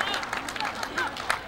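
Stadium crowd at a Korean Challengers League football match between Gyeongju and Pocheon, clapping and cheering steadily throughout, with scattered claps rising briefly out of a continuous murmur of spectators.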